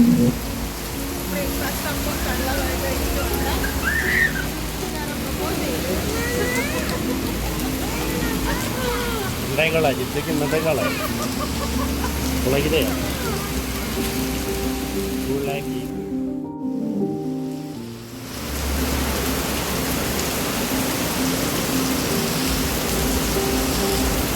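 Heavy rain pours in San Fernando, Trinidad, a steady, dense hiss that fills the scene, briefly dropping out near the end before resuming, while people talk over it.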